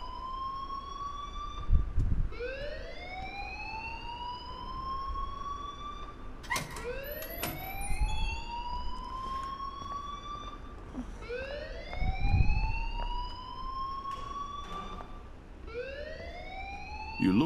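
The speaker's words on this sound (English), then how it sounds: "please turn off that alarm since that's your job" Alarm siren in the video game Life is Strange, wailing in repeated rising sweeps every few seconds, loud and close, with occasional low thuds underneath.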